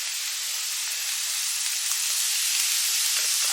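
Onion and chopped green chili sautéing in a pan for chicken samosa filling give a steady, even, bright sizzle that holds unbroken and close, with no voices.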